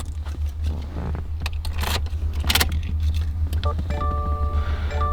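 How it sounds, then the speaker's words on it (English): On a 2015 Subaru Legacy, keys jangle and scrape as one is inserted into the ignition and turned on, followed by a sustained hum and a series of electronic chimes, all close-up. "insert a new key and turn ignition on"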